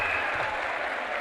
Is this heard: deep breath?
no